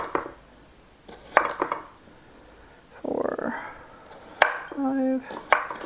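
A knife slices a cucumber into rounds on a board in a home kitchen, a few separate close chops and taps with quiet pauses between them.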